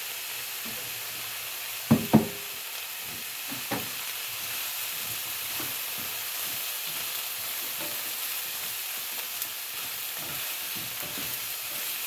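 Fresh garden tomatoes sizzle in a pan for pasta sauce, a steady soft hiss of frying with a few knocks of a utensil against the pan early on and no talking.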